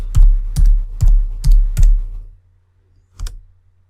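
Keys on a computer keyboard are struck in a quick run of five loud, close taps, followed by a short pause and one more key press.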